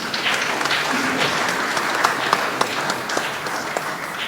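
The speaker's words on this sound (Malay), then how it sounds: "tepukan untuk diri sendiri" Audience at an excellent-service awards ceremony in a hotel ballroom applauding themselves, a dense, sustained round of clapping from a large crowd, fairly loud and even.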